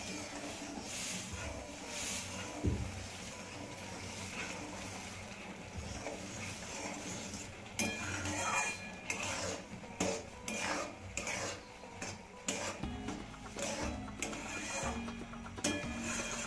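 Semolina sheera being stirred in a pan with a spoon, giving steady scraping and rasping strokes, close and fairly soft, that grow choppier and more irregular in the second half.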